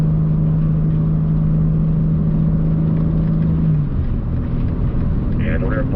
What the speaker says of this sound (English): There's your cars hustling up here